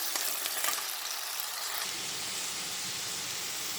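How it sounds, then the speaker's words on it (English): Potatoes fry in oil for chicken aloo keema, a quiet hissing sizzle that swells into a fuller, denser crackle partway through and then holds steady. "Potatoes, and I'm frying it."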